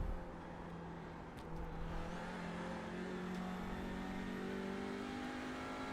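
A TCR touring race car in a sim racing game at Charlotte holds a steady engine drone that rises gradually in pitch as it revs, continuous and fairly close, with no talk over it.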